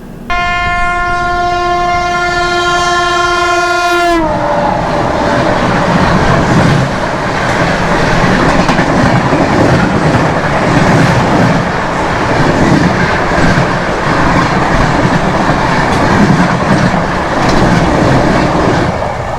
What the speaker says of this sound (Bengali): এবার আসবে ট্রেন নাম্বার এগারো হাজার একাত্তর মুম্বাই এলটিডি থেকে বালিয়া কামায়নি এক্সপ্রেস